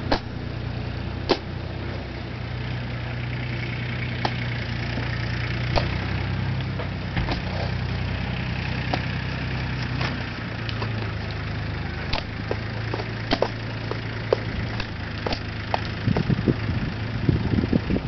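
A tractor engine idles outdoors while shrubs are being planted, a steady low rumbling drone with even mechanical pulsing that holds throughout, close by, with a few sharp clicks and knocks on top and no talking.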